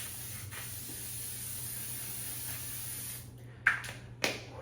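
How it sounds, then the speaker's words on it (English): Continuous faint hiss of L'Oreal Infallible setting spray misting onto a face, followed by two short, sharp, louder spray bursts near the end. "So I will be using the L'Oreal Infallible Spray."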